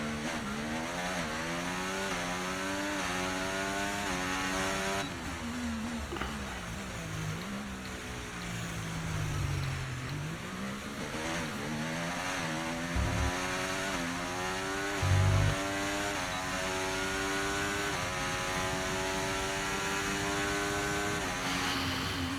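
Formula 1 car engine in the racing game F1 24, a high rising and falling whine as the car accelerates and brakes through corners, with gear shifts, a brief tire squeal and a steady loud drone.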